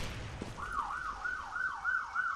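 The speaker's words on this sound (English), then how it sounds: "I wonder if everyone can hear that siren right now in the background." A wailing emergency siren rises and falls in a steady repeating cycle, faint and distant in the background, with no talk over it.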